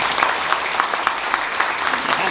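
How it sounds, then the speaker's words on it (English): Applause for election candidates at a Township of Langley 2022 candidates forum: a crowd claps steadily and fairly loudly throughout the brief moment, a dense patter of many hands. "maybe I can ask you to join me in a round of applause for our first group of candidates"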